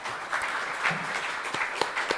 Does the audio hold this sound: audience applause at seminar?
yes